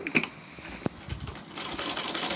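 A sewing machine stitches a salwar seam in a short burst of quick mechanical clatter, with a few sharp clicks, then a faster whirring run toward the end.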